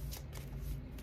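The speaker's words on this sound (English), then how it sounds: "Shuffle up these cards." Tarot cards being shuffled by hand, a quick burst of riffling flicks and soft taps, close and quiet.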